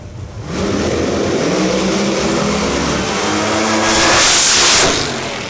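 Pro Mod drag racing cars, including a hot rod and a ProCharger-supercharged Camaro, roaring down the strip in a loud sustained blast of engine noise that swells as they pass close by, then fades.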